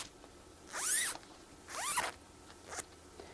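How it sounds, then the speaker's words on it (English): A zipper on a quilting frame roller is pulled open in two quick rasping strokes close by, followed by a short third zip sound. "Unzip these."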